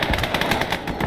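Sustained machine gun fire in the WWII game Gates of Hell: Ostfront, heard as loud, rapid, rhythmic bursts of shots packed tightly together with battlefield rumble underneath.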